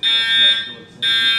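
A loud, shrill electronic alarm tone in a rap song sounds in two sustained bursts separated by a short dip.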